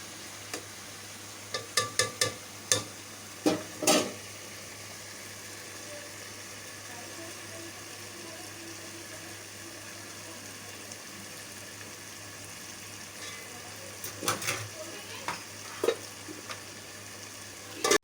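Meat bhuna-frying in a pot for achar gosht, a steady low sizzle running throughout with a few sharp clatters of a spoon against the pot near the start and again toward the end.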